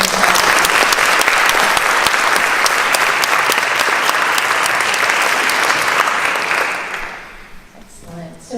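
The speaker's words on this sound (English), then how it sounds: "Let's give them all one big round of applause." Sustained, dense audience applause for a panel at a community conversation on transgender equality, loud and steady for about seven seconds before tapering off as a voice begins to speak.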